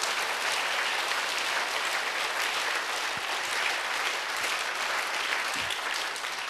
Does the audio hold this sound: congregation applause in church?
yes